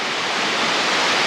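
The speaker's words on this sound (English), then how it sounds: "And this waterfall here, I guess that's why it's called double Culvert Falls." Double Culvert Falls in North Georgia pours down nearby as a steady, loud broadband rush of falling water, dense and continuous throughout with no voices.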